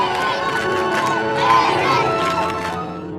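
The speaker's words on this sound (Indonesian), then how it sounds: "mereka memberi sorakan paling keras untuk masing-masing kubu, terutama dari para tahanan untuk Eric" A large crowd of soldiers and camp prisoners cheers loudly at a footrace, a dense roar of shouting voices that swells in the middle and then fades slightly.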